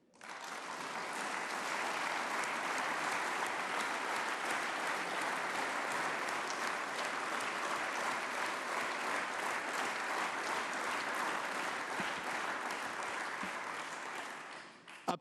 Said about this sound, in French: je pense que nous pouvons encore t'applaudir